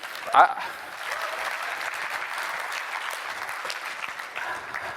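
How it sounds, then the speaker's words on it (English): Applause from an audience at a seminar, a steady wash of clapping that carries on evenly throughout after a brief sharp sound at the start. "Yeah, clap it up, please"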